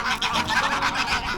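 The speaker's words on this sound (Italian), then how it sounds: "guarda quante oche, guarda che grosse che sono queste" A flock of geese honks near a cathedral in Reykjavik, a dense overlapping chorus of nasal calls that stays loud and close without a break, and no talk over it.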